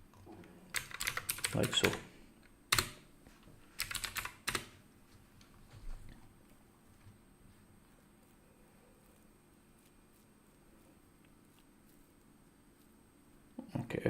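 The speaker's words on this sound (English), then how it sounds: "Now we type sudo open VPN and the file name .ovpn," Typing on a computer keyboard in a bursts-and-pauses pattern: quick clusters of clicky keystrokes, a few isolated key taps, a long quiet stretch, then more typing at the end, with brief speech near the start.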